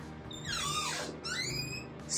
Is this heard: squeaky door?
yes